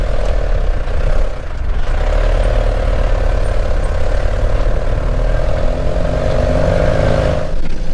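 An old Land Rover engine labours loudly and continuously as the vehicle climbs out of a riverbed. The low drone holds steady for the whole stretch, with no voices.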